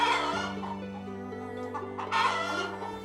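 Chickens clucking and a rooster crowing in a farmyard, with a fairly steady, moderately loud fowl sound that swells briefly near the end.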